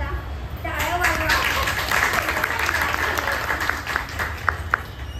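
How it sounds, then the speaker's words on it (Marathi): An audience at a dance academy's annual function in Warje, Pune, applauds the dancers with sustained, dense clapping at close range. The clapping is steady throughout, with a few sharper individual claps near the end. "तर त्यांना तुम्ही ॲप्रिशिएट करा, टाळ्या वाजवा"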